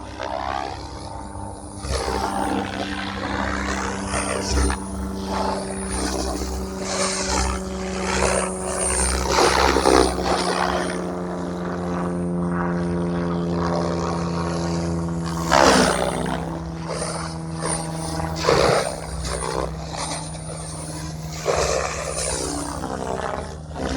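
An RC helicopter rotor spins at a gentle 2000 RPM under a FrSky Vantac RF007 Rotorflight flight controller, giving a loud, steady whirring drone with a tonal whine that swells and eases slightly, heard close up with no talking.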